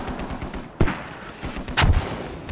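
Mortar fire in a tactical video game: two sharp, loud blasts roughly a second apart, the second heavier and longer, over a steady background of distant rumbling gunfire.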